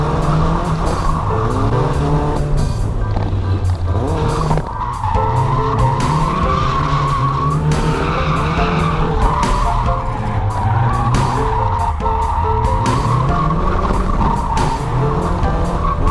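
A Mk2 Ford Escort drifts at a track drift day, its tyres skidding and squealing loudly and continuously over the revving engine, with pitch swooping up and down through repeated slides and no talk.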